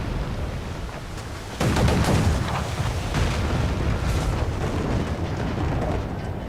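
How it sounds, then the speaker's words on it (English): A fort, Fort Navassa in Assassin's Creed 4, fires its cannons in a naval battle with a pirate ship: a sudden heavy boom, then a long rumbling barrage of overlapping blasts, loud and close, under constant sea and wind noise. "So he's got to rely on his broadside cannons."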